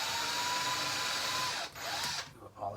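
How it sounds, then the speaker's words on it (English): A power drill bores a pilot hole through a bracket into a wooden cheese board, whirring steadily and close for about a second and a half before stopping, followed by a few short bursts of handling and brief speech. "So I'm going to drill 2 little pilot holes."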